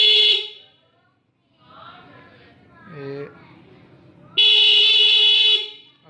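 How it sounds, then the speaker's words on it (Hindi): A vehicle horn wired to flash an LED blares in two loud, steady tonal blasts, one at the start and a longer one near the end, with someone speaking briefly in the quieter gap between them. "सिंपल हॉर्न चला रहा हूँ।"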